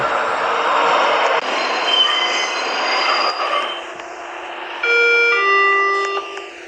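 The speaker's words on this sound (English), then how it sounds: "Ah, there is the train!" A futuristic train in a Roblox game rolls in with a rumbling roar, then high metallic brake squeals and tonal whines ring out as it slows.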